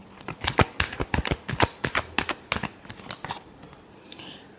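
Tarot cards being shuffled by hand, a rapid series of crisp riffling snaps in quick bursts that slow and trail off near the end, close and clear.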